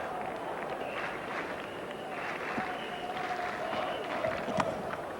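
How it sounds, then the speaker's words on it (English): A cricket crowd at a 1993–94 Benson & Hedges World Series Cup match cheers in a broad, steady roar with some scattered clapping, and a faint voice sits underneath. "the crowd has come alive"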